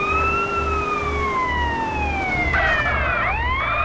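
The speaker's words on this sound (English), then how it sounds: "these guys really respect the siren" A police siren wails in the video game Grand Theft Auto San Andreas, its rising and falling tone loud and close over a rhythmic pulsing engine drone, with a second siren sweep joining near the end.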